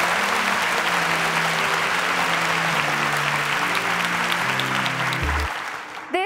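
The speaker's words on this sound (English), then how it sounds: "Let's give them a round of applause as they exit the stage." An audience at a televised competition applauds loudly and steadily as contestants leave the stage, with dense clapping over background music that fades out at the end.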